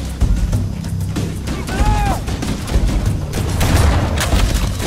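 Gunfire and explosive booms from a firefight in Halo Combat Evolved, with bursts of shots, thuds and a brief whining electronic effect amid shouting voices.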